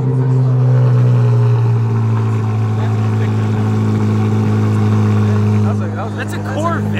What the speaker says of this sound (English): That's a Corvette. That's crazy. Why does, dude, it sounds like a Ferrari.